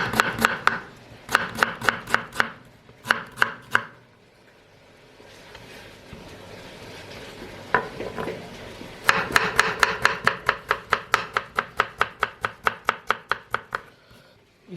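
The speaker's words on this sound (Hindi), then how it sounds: "तो ये अदरक हमने लिया है, इसको काट लेते हैं।" A knife chops fresh ginger into thin, long strips on a cutting board, giving crisp, close, evenly spaced knocks in quick bursts with a quieter pause in the middle, then a long steady run of strokes.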